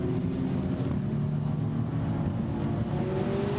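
GT4 race cars, including two MDM Motorsport BMWs, head out onto the Misano circuit during qualifying. Their distant engines make a continuous drone with wind buffeting the microphone, and one engine note climbs near the end.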